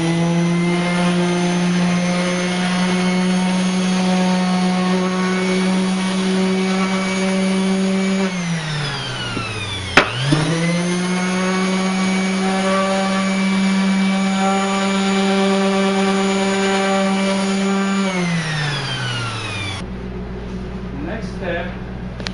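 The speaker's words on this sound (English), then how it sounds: "we're going to sand the sides" A power sander whines steadily on the sides of a wooden toy car, winds down, briefly stops, spins back up, runs on evenly, then slows and cuts off.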